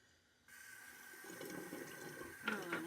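Running tap water in a bathroom sink during wet shaving starts abruptly and flows steadily, followed by a short burst of splashing as water is scooped onto the face.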